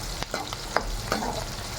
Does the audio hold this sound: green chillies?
yes